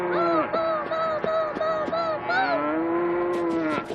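A cow moos in a series of short, nasal calls followed by one long drawn-out moo, loud and close, used as a sound effect.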